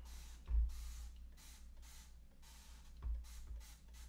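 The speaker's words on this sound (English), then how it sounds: "I'm gonna go ahead and spray this grate right here" A spray bottle of Dawn Platinum cleaner hisses in a rapid series of short bursts close by onto an air fryer grate, with a couple of dull low thumps in between.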